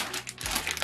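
A plastic vacuum storage bag with a hook crinkles while being handled, a short close burst of crisp rustling and crackling lasting under a second.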